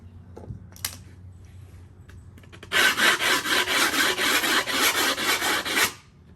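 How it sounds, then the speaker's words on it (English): A sanding block rasps along the edge of a skateboard deck with fresh grip tape applied, a near, loud series of rhythmic back-and-forth scrubbing strokes lasting a few seconds after a couple of light knocks. "next thing we're gonna do is we're gonna sand this bad boy down and cut her out"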